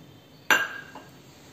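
A pan set down on a stovetop with a single sharp metallic clank, followed by a softer faint knock as kova is added, in a quiet kitchen making kova roll ups.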